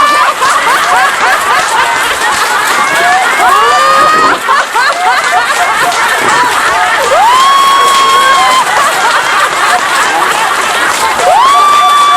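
A group in an outdoor laughter-therapy session claps hands while laughing loudly all at once, a dense, continuous roar of overlapping laughs, whoops and clapping that stays loud throughout, with some voices rising above the crowd.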